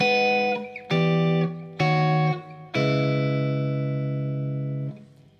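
Four chords ring out on an electric guitar, three short ones followed by a long sustained chord that fades, played alone without talk.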